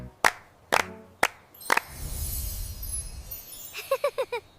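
Four sharp, evenly spaced hand claps ring out close and loud, then a noisy rustling passage, and a sung phrase follows near the end of a kids' kitchen dance song.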